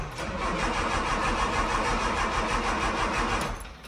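A classic Mini engine cranks, catches and starts with a little choke applied, a dense steady mechanical engine sound filling the clip before easing off at the end.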